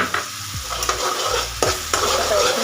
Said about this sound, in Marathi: त्याच्यामध्ये टोमॅटोची पण आता पेस्ट घालून घेऊ,